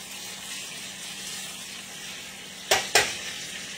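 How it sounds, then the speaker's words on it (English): Creamy chicken with bacon and spinach frying in a pan on an uneven stovetop burner, a steady close sizzle broken by two sharp clattering bursts as the pan is shaken. "I'm going to make it dance in the pan a little bit"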